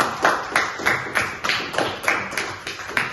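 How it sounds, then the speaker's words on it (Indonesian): Classmates in a school classroom give a short round of applause, about ten evenly spaced claps in a steady rhythm, close and moderately loud, with no talking over them. "tepuk tangan dulu untuk teman-temannya semua"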